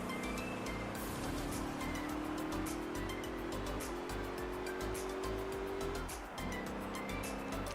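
A V8 race car engine in Gran Turismo 3 drones continuously at high revs, its pitch slowly rising then dropping briefly before climbing again, with tire noise underneath.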